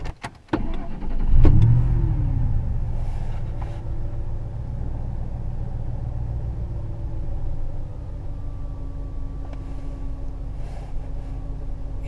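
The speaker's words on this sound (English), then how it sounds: "Keep the engine at 2500." Car engine held at a steady raised speed around 2500 rpm during a battery test, with a clunk or two at the start and then an even, continuous drone close by.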